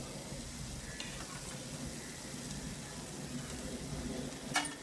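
Mushroom butter masala sautés in oil in a pan, a soft continuous sizzle with occasional stirring scrapes and a sharper clink near the end.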